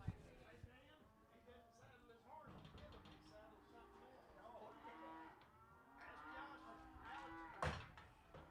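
Weaned cattle at a livestock auction in a stockyard sale barn, mooing and lowing repeatedly in drawn-out calls, mid-distance, with clanks and knocks of gates and pens and a voice faintly in the background.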